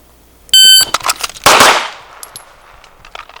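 A shot-timer beep is followed about a second later by a single sharp, close pistol shot during a sub-second draw drill at 3 yards, with a short echo trailing off.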